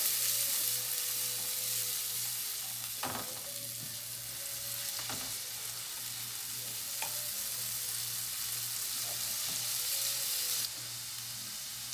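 Onion frying in butter gives a steady, close sizzle with a low hum underneath and a few soft clicks and pops scattered through, with no voices.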